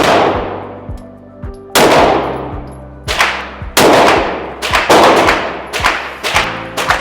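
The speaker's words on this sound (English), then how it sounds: "we're going to use our first 5 rounds going just one-handed" Handgun shots fired one-handed at a 10-yard range ring out one after another, each sharp loud crack followed by a short decaying echo, spaced irregularly about a second apart.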